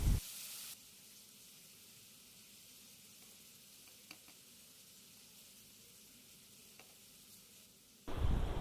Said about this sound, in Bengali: তেলের মধ্যে কিছুক্ষণ মশলাটাকে ভেজে নেব।